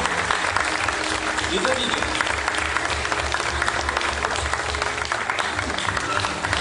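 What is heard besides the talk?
audience applauding loudly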